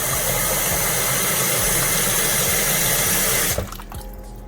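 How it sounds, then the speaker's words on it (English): Water gushes steadily and loudly into a pot of saltfish for about three and a half seconds, then cuts off abruptly, leaving faint quiet handling sounds. "add water just to cover the saltfish to cook"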